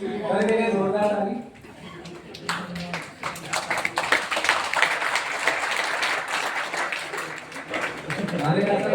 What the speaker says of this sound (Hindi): कर देंगे जोरदार ताली।